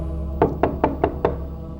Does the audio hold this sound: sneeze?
no